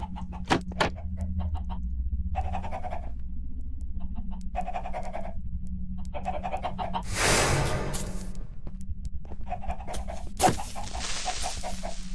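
Chickens in the Minecraft game Skyfactory 5, clucking in short repeated bursts over a steady low hum, with an occasional thump and a short rush of noise partway through.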